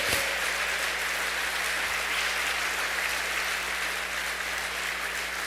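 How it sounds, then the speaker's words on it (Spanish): A church congress audience gives steady sustained applause, an even wash of many clapping hands with a low hum underneath, moderately loud and continuous without pause. "Dale un aplauso, si se lo vas a dar"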